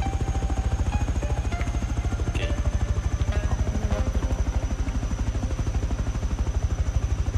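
Helicopter in the video game Rust, a loud, close, steady rotor chop with fast, even thumps continuing throughout, plus faint clicks here and there.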